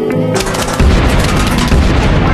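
Pea bullets firing in the Plants vs Zombies video game make a series of loud, punchy booms, with a sharp burst followed by steady, dense thumping impacts that continue throughout.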